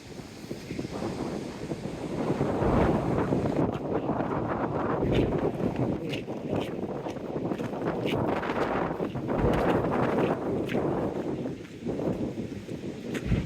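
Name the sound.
wind blowing on a beach walk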